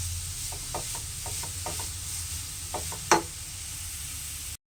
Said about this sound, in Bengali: গাজরটা ঘিয়ের সাথে ভালোভাবে ভেজে নেব।